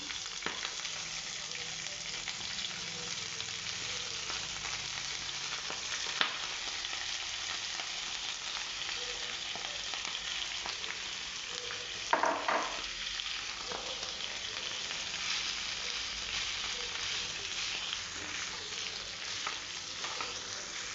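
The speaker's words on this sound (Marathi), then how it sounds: "आता तेलात किंवा तुपात परतून घेऊया त्याच कॅनमध्ये मी परतून घेत आहे" Fenugreek leaves sauté in oil inside a can while making dhaba-style paneer methi, with a constant soft sizzle and hiss, broken once midway by a brief scrape of stirring.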